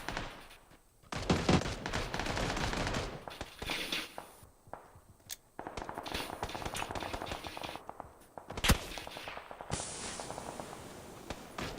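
Gunfire in the video game PUBG, bursts of shots and rapid automatic fire at varying distances, some loud and close, others fainter, with pauses between volleys.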